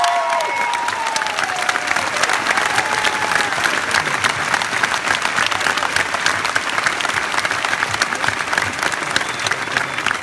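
A big arena crowd at a concert applauds a performer with loud, dense, sustained clapping and a little cheering, steady for the whole stretch.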